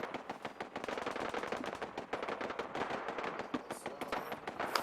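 Rapid gunfire from Fallout 4, with buckshot blasts among a dense burst of sharp repeated shots, close and loud and continuing almost without pause across the whole stretch, no clear speech over it.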